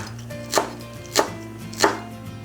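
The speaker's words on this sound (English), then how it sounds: "let's chop some green onions into small pieces" A knife chops green onions into small pieces on a board, three evenly spaced sharp strikes close by over quiet background music.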